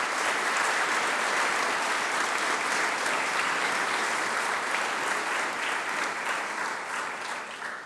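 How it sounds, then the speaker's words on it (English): Loud, continuous applause from a large audience at a Philadelphia mayor's press conference, a dense wash of clapping sustained for about eight seconds that tapers slightly at the end, with no speech over it. "Now you can clap."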